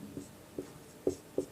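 Chalk or marker writing on a board during a class 10 trigonometry lesson, heard as four short, close scratchy strokes spaced at uneven intervals over a quiet room background with no talking.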